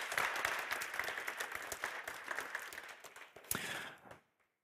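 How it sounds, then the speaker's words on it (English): Warm audience applause at a policing and security expert panel, a dense steady burst of many hands clapping for about four seconds before cutting off. "A warm round of applause."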